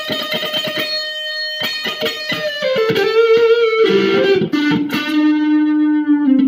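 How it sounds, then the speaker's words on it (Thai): An electric guitar plays through a VOX Joe Satriani Satchurator distortion pedal with its boost switched on. It gives thick, sustained distorted single-note lines that slide downward, loud and close, with sharp pick attacks and no talking. "ตัวนี้เหมือนเป็นตัวบูทนะครับตัวบูทเพิ่มเสียง"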